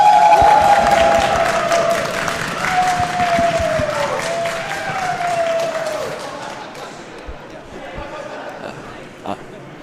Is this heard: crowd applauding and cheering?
yes